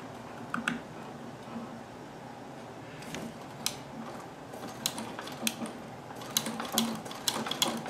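A straight stitch sewing machine fitted with a zigzag attachment runs with a steady, soft mechanical whir under rapid ticking and clicking, fairly quiet and close, with no voices.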